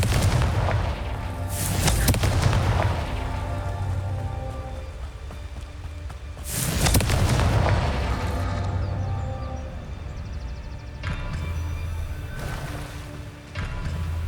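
Confringo spell explosions in the Hogwarts Legacy video game, two heavy booming blasts a few seconds apart under a steady rumbling game soundscape, no talk.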